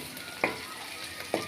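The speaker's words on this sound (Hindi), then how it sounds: "प्याज को आपने अच्छे तरीके से गोल्डन ब्राउन करना है" Onions fry toward golden brown in a pan, a steady soft sizzle with two brief stirring scrapes.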